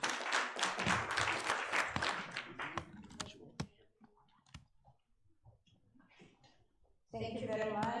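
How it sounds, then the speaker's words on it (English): A summit audience gives a round of applause, dense clapping loud at first, then thinning to scattered claps and fading into near quiet before a speaker starts talking. "A round of applause."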